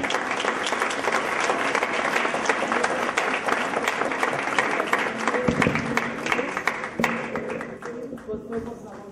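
Loud, sustained clapping from an audience at a proclamation ceremony, with a few sharp taps and crowd murmur, then tapering off toward the end.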